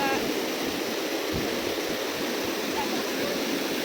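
A river rushes beneath a small footbridge on a rainy hillside trail, producing a steady loud roar of flowing water that holds for the whole stretch, with a few faint thumps underneath.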